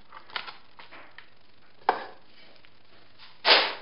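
Beeswax torn by hand into small pieces: a few sharp crackling rips, soft rustles early on and two louder bursts of tearing, heard close with no talk.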